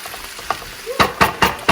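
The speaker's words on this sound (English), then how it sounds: "So we'll go ahead and let these onions cook off." Onions sizzle in hot oil with seasonings as a spoon stirs and scrapes the pan, producing several sharp clacks in a steady rhythm over a continuous frying hiss.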